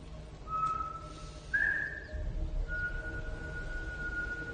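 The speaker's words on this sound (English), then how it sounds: "So all he does is whistle." A man whistles a few long, steady tones, each held for a second or more, over a low rumbling background.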